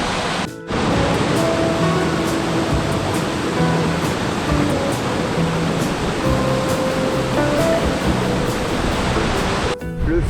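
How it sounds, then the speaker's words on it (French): Waterfall in Stuðlagil canyon, Iceland, among basalt column formations along the river: a loud, steady broadband roar of falling water, continuous and close, with no voices. "cascade de la journée avec les jolies formations de basalte"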